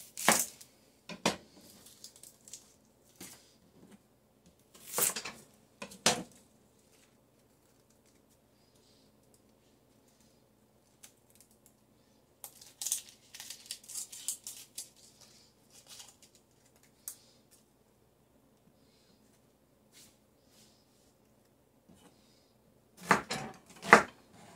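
Big onions are chopped on a cutting board for greens: scattered knife strikes come in short bursts with quiet gaps between them, and faint bird calls sit in the background.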